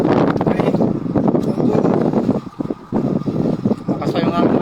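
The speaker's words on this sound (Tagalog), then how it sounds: "Lakas pa yung hangin" Loud, rumbling wind buffeting the microphone almost throughout on a service boat at sea, briefly easing for a moment before gusting back strongly.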